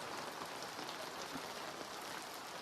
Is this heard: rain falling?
yes